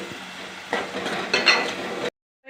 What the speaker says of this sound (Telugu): పసుపును వేసేసి వేయించేస్తున్నాం